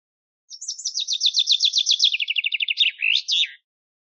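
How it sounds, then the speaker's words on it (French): A common chaffinch sings a single loud, close descending run of rapid repeated notes that speeds up and ends in a short flourish, clean against silence with no voices. "Le pinson."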